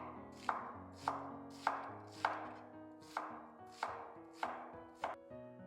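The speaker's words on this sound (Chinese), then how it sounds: "接下来就是切细丝，顺着包菜的纹理切" A knife chops through halved, cored cabbage on a board, shredding it into fine strips with eight crisp, evenly spaced strokes, close and clear, with no one speaking.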